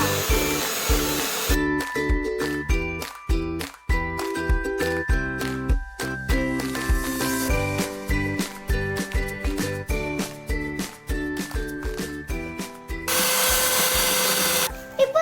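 An electric hand mixer beats a batter in a home kitchen just after a quarter cup of ground paste is added; a steady, close whirring drone with a rhythmic pulsing runs almost continuously, with no talking.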